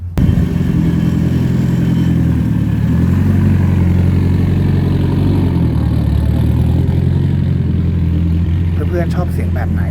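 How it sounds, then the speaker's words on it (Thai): Sports car engine at an all-wheel-drive car meet, loud and close, idling and revving steadily with a deep rumble for nearly the whole stretch before dropping away at the end. "เดี๋ยวเราไปลองฟังเสียงคู่แข่งคนสำคัญของซูบารุกันบ้างนะครับ"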